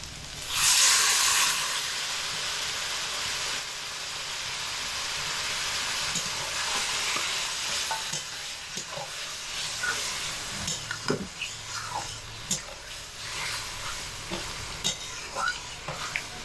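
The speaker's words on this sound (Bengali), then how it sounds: "এবার আমি এর মধ্যে পোস্ত বাটার যে জলটা রেখেছিলাম সেটা দিয়ে দেব" Poppy seed paste water is poured into an okra curry with coconut in a hot pan, a loud hiss and sizzle at first that settles into steady frying with light stirring clinks.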